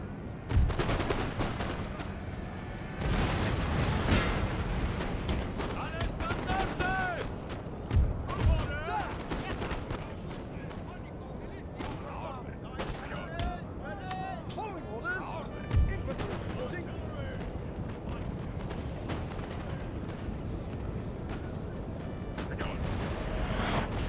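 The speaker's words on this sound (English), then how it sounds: "Those point blanks are artillery shots." Artillery shots from a Napoleonic battle in Napoleon: Total War, several sharp booms scattered through dense battlefield din and musket crackle, with voices talking over the fighting.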